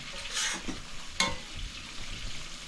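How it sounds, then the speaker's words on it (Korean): Food deep-frying in a pot of hot oil gives a steady bubbling sizzle throughout, with a brief louder crackling burst partway through and no talking. "너무 잘 튀겨지고 있습니다."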